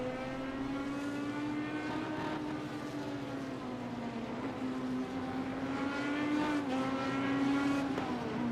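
GT4 race cars in a racing video game, a continuous engine drone whose pitch slowly wavers as the pack approaches, close, steady and loud, with no other sounds standing out.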